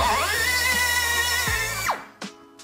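A Euroboor BM45AIR air-powered beveling machine countersinking a drilled hole, a steady high whine with a grinding edge as it cuts, close and loud, then spinning down and stopping with a couple of brief clunks.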